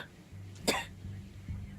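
A single close, sharp cough from an ill adult, standing out briefly against a low steady background hum.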